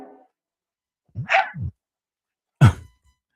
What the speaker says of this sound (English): Didn't notice the dog barking.